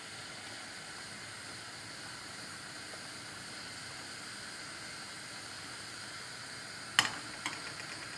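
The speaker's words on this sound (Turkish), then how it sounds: "Yağım hafif cızırdamaya başladı." A faint, steady hiss of oil with red pepper sizzling gently in a pan, continuous and quiet, with a sharp clink near the end.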